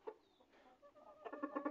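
Chickens, a red rooster and a white hen, cluck softly and close by, with a few scattered notes that grow into a denser run of clucks toward the end.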